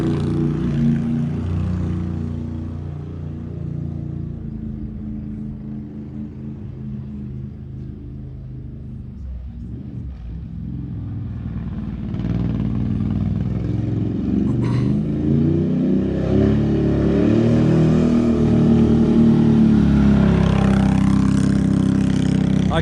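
A vehicle fitted with an RJWC Krossflow exhaust cruises past, a deep rumbling engine that fades slightly, then grows louder and revs up as it approaches close by.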